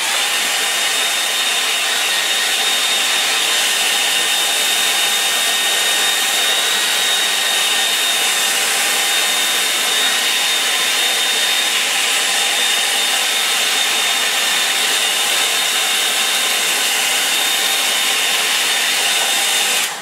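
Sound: hair dryer drying a watercolour painting

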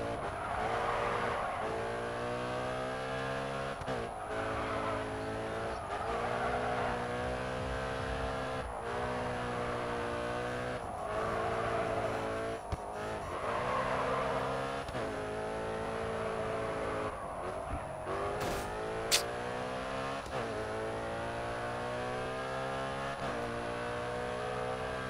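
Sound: Skyline race car driving in video game Grid 2

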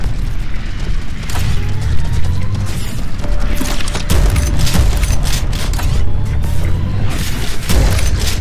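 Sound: explosive barrel exploding, Prodeus video game

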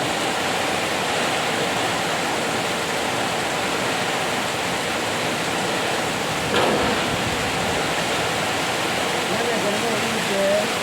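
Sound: strong wind

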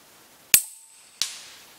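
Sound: 22 cast slug fired from Huben K1 airgun

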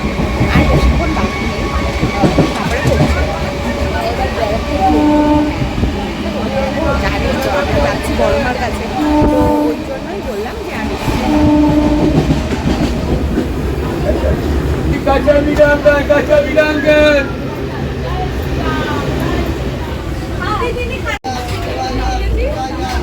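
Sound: riding a train towards Barrackpore

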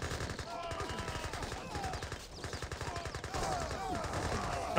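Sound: Gatling gun fire in Age of Empires 3 video game

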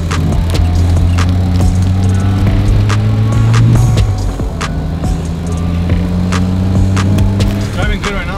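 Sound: RENNTech E60 Mercedes-Benz car driving

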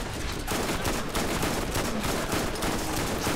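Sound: MIRV cluster grenade explosions in Borderlands video game

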